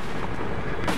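A loud, booming gunshot from the video game Battlefield Hardline fills the whole second with dense, rumbling reverberation and no talking.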